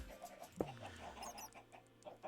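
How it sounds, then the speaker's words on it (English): Chickens in a video game cluck in short, soft, repeated bursts with a faint sharp click among them, all fairly quiet. "Those fucking chickens, man."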